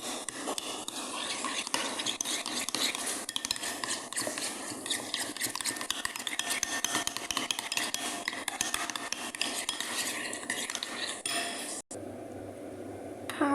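A spoon stirs ingredients mixed with lemon juice in a pot, giving a steady, close, rasping scrape that runs almost without pause before a brief break near the end.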